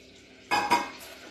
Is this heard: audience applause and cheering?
no